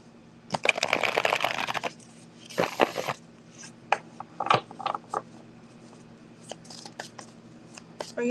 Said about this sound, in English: Let me just shuffle these and grab the other deck.